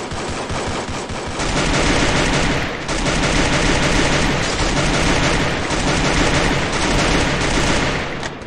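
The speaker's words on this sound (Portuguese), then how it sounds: "Dá tiro. Troca tiro." Gunfire in a shooting video game match: loud, close bursts of rapid automatic fire trade back and forth almost continuously, with brief dips between volleys and no talk.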